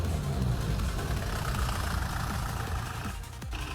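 A tractor engine idling outdoors, a low steady rumbling drone that holds at an even level with no voices over it.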